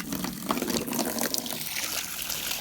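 Water pours and trickles from a container into a trough for farm animals, a steady splashing stream heard up close and alone.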